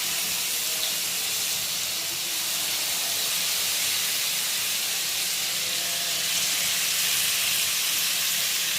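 Chicken pieces sizzling in a hot pan while cooking Arabic-style chicken, a steady loud hiss and spatter that holds evenly throughout, no voices.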